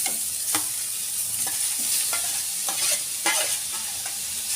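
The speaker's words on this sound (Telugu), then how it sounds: "గీలో సొరకాయ వేసి వేయించుకుందాం" Bottle gourd frying in ghee in a pan, a steady bright sizzle with occasional stirring scrapes, loud and close, no voices.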